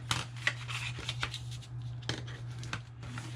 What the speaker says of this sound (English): then we will fold and burnish these scores